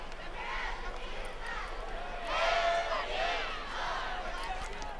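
A large crowd in the stands at a high school football game, RHS vs Dardanelle, a steady distant roar that swells in the middle, with a voice talking over it.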